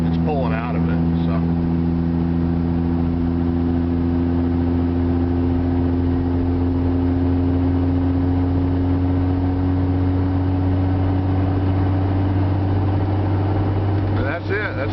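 A diesel engine labours steadily uphill in one gear without a downshift, a low continuous drone with a faintly rising tone that holds loud and even throughout, with a brief clatter near the start and end.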